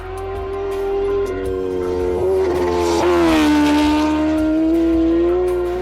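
Kawasaki Ninja H2R superbike heard onboard during an Isle of Man TT racing lap, a loud sustained engine whine that shifts pitch as it accelerates and slows, with rushing wind noise.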